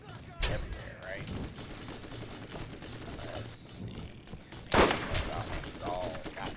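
Gunfire in the video game Borderlands, with a few sharp bursts standing out around the start and near the end over a busy mix of game effects and continuous talk.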